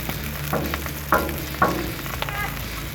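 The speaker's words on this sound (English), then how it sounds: "Let's toast our buns. Put them back there. Don't need no butter. We got bacon grease." Burger buns toast in bacon grease on a Blackstone griddle, a steady close sizzle with a few sharper scraping clatters as the buns are shifted.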